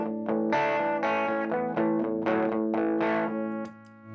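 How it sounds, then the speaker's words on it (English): An electric guitar played through a Beano boost pedal into a clean, large Fender amp rings out in strummed chords and picked notes, bright and slightly harsh, loud and alone with a brief pause near the end. "the Beano boost on its own into a clean big Fender amp"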